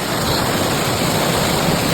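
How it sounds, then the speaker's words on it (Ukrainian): A hidden waterfall along a steep hiking trail pours with a steady, broad rushing roar. The sound is loud and unbroken, and no voices are present. "Таємний водоспад. Зараз вже відкриється."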